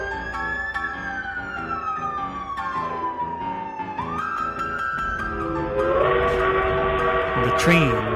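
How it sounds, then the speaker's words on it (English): A freight train picks up speed as it rolls out; a siren sweeps slowly at first, then deep rumbling and horn-like tones swell and grow louder near the end, with no talk. "The train was already picking up a good bit of speed as I ran alongside the gravel embankment"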